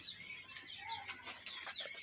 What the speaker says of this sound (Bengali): এখানে ফার্ম মুরগি এবং টাইগার মুরগি আছে,